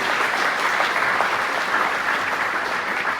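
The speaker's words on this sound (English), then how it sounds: "Let's give her a big round of applause." An audience at a green growth convening on Saipan gives a big round of applause, a dense, even roar of many hands clapping loudly throughout, with no voices over it.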